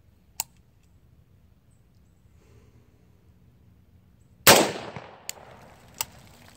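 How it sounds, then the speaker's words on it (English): A single loud, sharp rifle shot fired at close range while aiming through an EOtech holographic sight, with a short ringing decay, preceded and followed by a few isolated mechanical clicks in otherwise quiet surroundings. "first round that I fire here is gonna be a dead-on hold"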